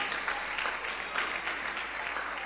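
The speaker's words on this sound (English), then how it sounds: "Keep clapping for him." A church congregation applauds steadily for a few seconds, with many hands clapping as a dense, even patter at moderate distance.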